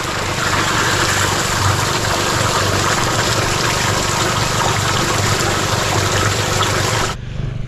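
Water gushes steadily from a hose or pipe into drums as a continuous, loud rushing splash, with no voices, then cuts off abruptly near the end.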